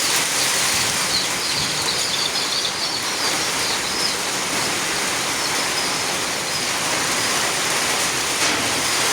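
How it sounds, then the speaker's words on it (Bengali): Steady heavy rain pours down outdoors, a dense, even hiss filling the whole stretch with no pauses and no talk. "বৃষ্টি করতেছে"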